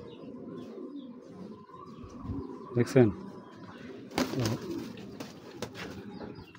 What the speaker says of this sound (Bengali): এই যে বেজি কবুতর, পাল্লা করা কবুতরের